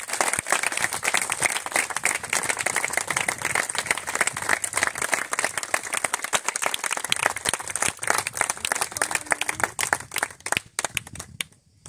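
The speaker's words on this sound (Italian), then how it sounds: "Io farei un altro applauso" Applause from the audience at an archery tournament award ceremony, a dense run of clapping that carries on steadily for about eleven seconds before thinning out at the end.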